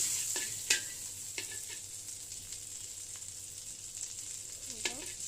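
Butter melting and sizzling in a frying pan, a faint, steady frying hiss with a few soft utensil taps and scrapes scattered through it, heard alone at low volume.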